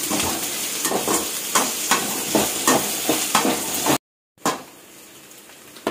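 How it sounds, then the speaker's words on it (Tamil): Onions sauté in a hot pan, a constant sizzle broken by regular scraping strokes of a spoon about every half second, close and fairly loud, with a brief silent gap near the end before the frying resumes more quietly. "வெங்காயம் கொஞ்சம் நல்லா வதக்கப்போம்."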